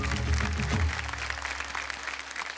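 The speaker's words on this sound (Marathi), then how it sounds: "जोरदार टाळ्या झाल्या पाहिजेत" Applause from an audience at a kirtan performance in Maharashtra, a dense burst of clapping that is loudest at the start and then continues more lightly over a low steady hum.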